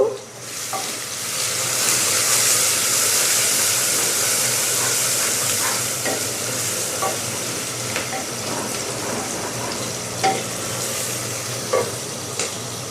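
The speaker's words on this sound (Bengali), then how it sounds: "পেঁয়াজটাকে আমি ভেজে নেব।" Sliced onions frying in hot oil in a pan for beef biryani: a loud, close, continuous sizzle with occasional sharp pops and stirring clicks, and no voices.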